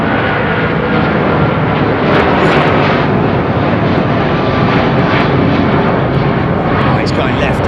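An American Airlines Boeing 777 with Rolls-Royce engines takes off at London Heathrow, a loud, steady jet roar that fills the whole clip with constant broadband rumble.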